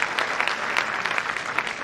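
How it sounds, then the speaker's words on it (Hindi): An audience at a cultural event applauds the host, a steady burst of hand clapping from a roomful of people, close and lively for about two seconds. "तो मेघना जी के लिए भी जोरदार ताली बजाए तो अच्छा है।"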